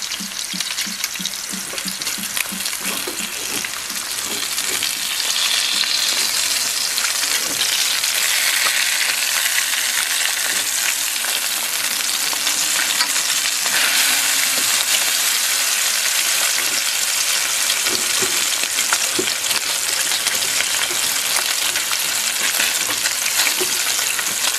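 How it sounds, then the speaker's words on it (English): Half a pound of bacon sizzles loudly and steadily in a covered pan, a dense, continuous crackle with occasional light knocks and clinks early on. "let's flip over my first half pound of bacon"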